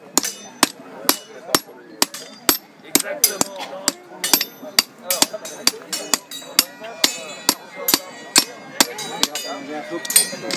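Blacksmith's hammer striking a forged arrowhead socket on an anvil: a steady, ringing series of sharp metallic blows about every half second, with a brief spoken word among them.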